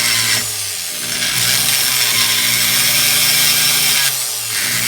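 A power tool grinds the port bridge of a KTM Husqvarna 250/300 two-stroke cylinder, a close, steady high-pitched whine with brief dips as the tool is lifted and reapplied.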